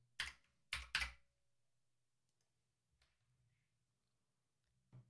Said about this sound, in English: now I can type the code.